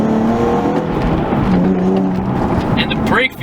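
A 2011 Nissan 370Z's engine hums and rises in pitch as the automatic rev-match blips the throttle during a downshift. It sits under someone talking from inside the car.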